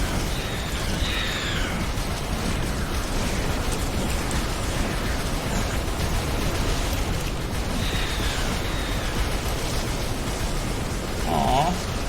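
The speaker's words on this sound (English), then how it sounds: "The rock rain is over." Meteor rocks rain down in The Riftbreaker, a sci-fi base-building game, as a dense, steady roar of rumbling impacts and crackling bursts, with occasional sharper pops.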